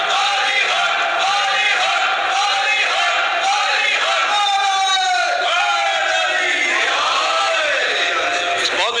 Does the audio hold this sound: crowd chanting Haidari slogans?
yes